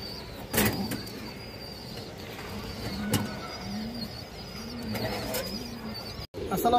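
Pet pigeons kept for sale, including racer, colour, high-flyer and release breeds, coo in low repeated bursts close by, with several sharp rustles and a steady background hum, and no voices.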